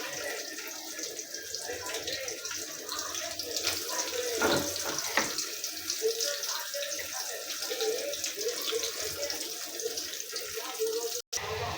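Onions sizzle and crackle in shallow soybean oil, a steady hiss close by with no one speaking, for a crab and prawn dish.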